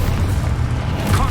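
A spell blast booms in the Hogwarts Legacy video game, a dense low rumble filling the whole short moment with steady loudness and a slight swell near the end.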